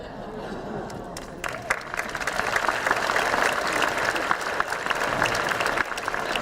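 An audience at a faculty and staff lunch claps. The applause begins sparse, swells into a dense, steady round of many hands and continues loudly to the end.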